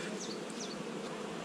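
Honey bees swarm around a hive during an April colony inspection, a dense, continuous buzzing hum with a few individual bees whining past close by.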